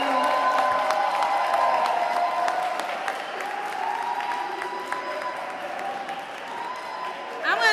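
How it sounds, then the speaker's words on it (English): Audience at a youth empowerment recap event at the Massachusetts State House clapping and cheering, a broad wash of applause with shouts mixed in, loud at first and tapering slightly toward the end. "I want you to clap it up, yell,"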